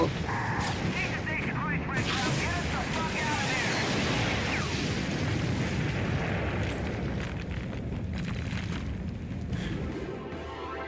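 Loud, continuous explosions rumble and crackle through Prototype gameplay, with dense booming blasts and sharp bursts layered over roughly eleven seconds while someone talks over the action.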